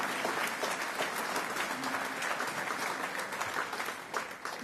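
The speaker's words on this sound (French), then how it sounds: "Vous pouvez les applaudir, en effet." An audience at a municipal New Year's address claps in sustained, dense applause that holds steady for several seconds before easing slightly at the end.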